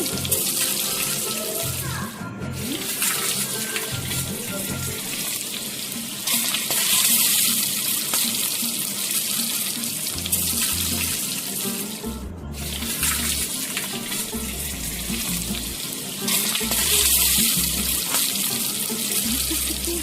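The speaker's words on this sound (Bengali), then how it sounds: "একটু একটু করে তেলের ভেতরে বেগুন দিয়ে দিচ্ছি ভাজার জন্য" Eggplant pieces frying in hot oil for a Bengali begun bahar dish, a loud, steady hiss and sizzle running throughout with bursts of crackle as more pieces go into the pan.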